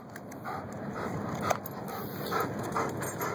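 A dog pants close by in quick, rhythmic breathy huffs at a moderate level, with occasional soft clicks and a faint wet sound between breaths.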